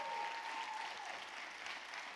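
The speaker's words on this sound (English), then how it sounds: "Clap your hands, you guys are on fire today." An audience at a keynote event claps together, a steady wash of applause from a crowd, dense and even with no voices on top.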